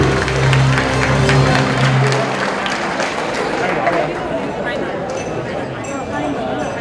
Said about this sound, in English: one more round of applause for all of the past presidents